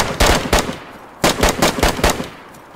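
Loud video-game gunshots ring out behind the player in two separated bursts, first a couple of sharp cracks, then after a short pause a quicker run of five or six shots, heard close with no talking.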